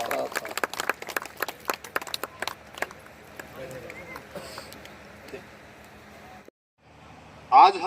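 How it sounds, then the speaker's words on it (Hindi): Guests clapping at a Buddhist wedding ceremony, a burst of scattered, fairly close hand claps for a few seconds that thins into sparse claps and quiet room murmur. "सभी तालियां बजाए।"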